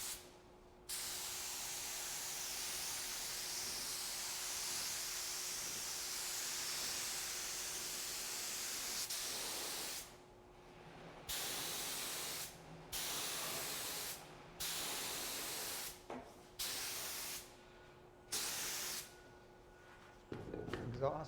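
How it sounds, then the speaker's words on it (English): A spray gun hisses in long continuous bursts, spraying stain blocker over an oak door, close by, then in shorter on-off blasts separated by brief pauses. "I'm going to spray the stain blocker over this oak door."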